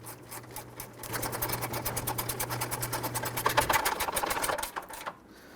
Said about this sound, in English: You can use your regular ratchet or your gear wrench here. I'm going to tighten down the 4 big bolts first